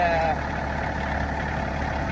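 A tractor engine idles nearby on a dig site while a hole is being backfilled, giving a steady, even low rumble that holds without change throughout.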